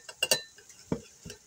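A utensil clinks and taps against a bowl while Parmesan cheese is stirred into butter, a few sharp metallic strikes followed by softer scrapes, close and brief.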